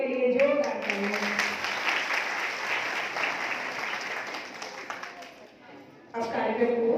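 A crowd bursts into sustained applause, loud and even, fading slightly before voices and music return near the end.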